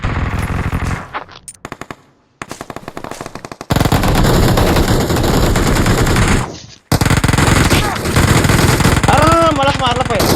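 Automatic gunfire from the mobile battle royale game BGMI crackles in long, dense bursts with brief gaps, loud and close, and a player's voice talks over it.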